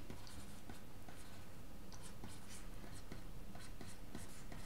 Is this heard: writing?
yes